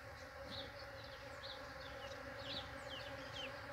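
Bees buzz continuously around a flowering ora-pro-nóbis plant outdoors, a steady close drone with several insects weaving past at slightly different pitches.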